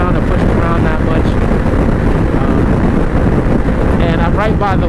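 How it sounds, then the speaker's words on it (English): Heavy, continuous wind buffeting the microphone of a rider on a 2020 Honda CBR500R motorcycle near the waterfront, a steady roar filling the whole clip with brief voice-like fragments poking through near the end. "I'm right by the water, so it is usually windy, you know."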